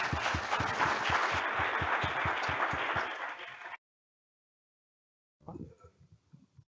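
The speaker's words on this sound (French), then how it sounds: "On peut les applaudir, probablement." An audience applauds the round table speakers at a 2019 Diapaz x Microsoft event on the modern workplace: steady, close clapping for several seconds, then abrupt silence, followed by a short, scattered second round.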